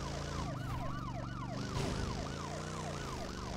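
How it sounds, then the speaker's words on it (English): Police sirens wail continuously in the PS4 game Road Rage, several overlapping up-and-down tones that stay loud and close over a steady vehicle engine drone. "the sirens will get annoying"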